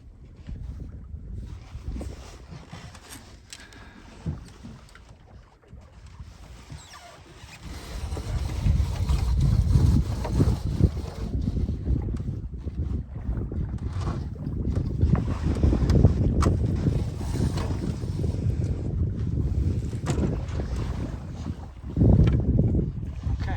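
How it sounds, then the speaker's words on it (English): A westerly wind buffets a sailing boat on a mountain lake, a rumbling rush that swells from quiet to loud and stays strong, with gusts and faint boat and water noise and no talking. "looks like we got our westerly wind finally"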